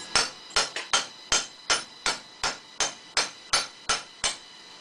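D2 steel butterfly sword blade striking a hard cast iron vise, about fourteen sharp ringing metallic hits in a steady rhythm, close and clear with no talk.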